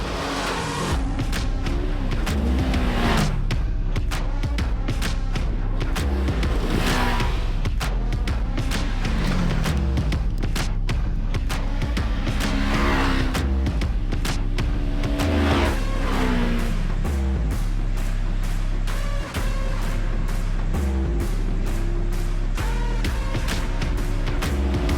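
A Polaris RZR XP1000 side-by-side with a 1000-class engine and 64-inch width roars loudly and steadily throughout a test ride, the engine revving up and down in close, unbroken waves with no talking.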